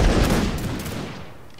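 Musket volley fire in the Mount and Musket battle game, a loud burst of overlapping gunshots at the start that rolls and fades over about a second and a half.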